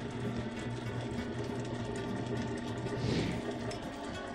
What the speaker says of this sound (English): We're going to add the eggs in stages to make sure we get a thorough blend of the ingredients.